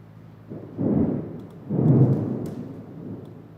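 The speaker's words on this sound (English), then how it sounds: "just heard a crack of thunder here at Southwest Lincoln" Thunder cracks and rumbles during a severe thunderstorm in southwest Lincoln, two deep rolling swells close together, moderately loud over a faint background of rain, with no voices.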